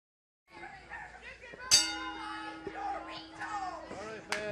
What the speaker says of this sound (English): All right, fans, and at the bell, King Parsons now, Tony Russo.